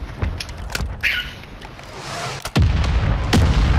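A flashbang grenade going off in the video game Warzone II, a loud booming blast with a sustained rumbling roar afterward, mixed with other game effects.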